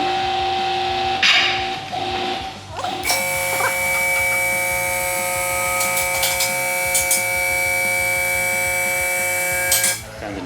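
A QuickJack electric car lift, set up for rally car prep, runs with a steady high electric motor whine and tonal hum after a few clunks, loud and continuous for several seconds before cutting off.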